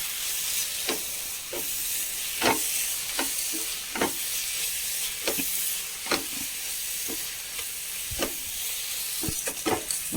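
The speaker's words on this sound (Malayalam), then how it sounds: "നന്നായി വഴറ്റി കൊടുക്കാം" Chicken sautéed with turmeric and garam masala powders for a home-style biryani, giving a steady hiss of frying with repeated sharp scrapes and clanks of a spoon stirring against the pan, near and alone.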